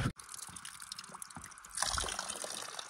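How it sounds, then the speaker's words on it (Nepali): Water trickles and dribbles steadily from a spring spout in a jungle near Sandakphu, Darjeeling, a soft continuous flow heard close by and growing slightly fuller toward the end. "यो एउटा धारा हो फर्स्ट"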